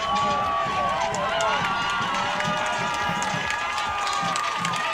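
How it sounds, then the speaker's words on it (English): A high school football crowd cheers steadily in the stands late in the fourth quarter of a close game, a dense continuous roar of shouting voices with whistles and calls rising above it. "Boy, this crowd is electric right now."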